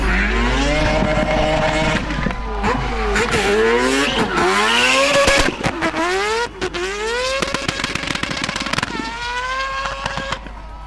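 A high-revving rotary engine screams and drops repeatedly as a car drifts, with tire squeal and rapid gear-change stutters, loud and close throughout.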